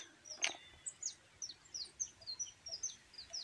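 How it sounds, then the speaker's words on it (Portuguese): Small birds chirp in a rural backyard, a steady run of high, quick tweets repeating every fraction of a second, fairly faint and set against quiet outdoor ambience, with a brief louder knock near the start. "Os passarinhos aqui, ó."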